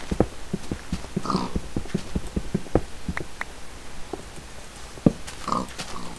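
Pig in the video game Minecraft, short grunts and oinks scattered over several seconds among soft clicking steps, moderately loud with no talking.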